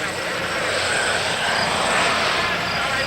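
Vintage airplane at an airshow, its engine roaring loud and close as it passes, with a steady droning tone throughout.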